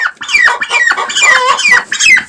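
Chickens cluck and squawk up close in a farmyard, a loud run of repeated calls with short gaps, no other sound around them.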